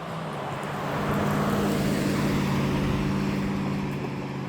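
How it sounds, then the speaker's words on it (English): A truck passing on a country road, a broad rumbling engine and tire roar that swells and holds steady close by, with no talk over it. "Here's a truck."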